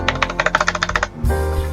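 A rapid run of sharp plastic clicks from a GK64 custom mechanical keyboard with lubed Gateron switches, ending in a firmer snap as the spacebar keycap is pressed onto its stabilizer. The sounds are close and crisp, and no one speaks.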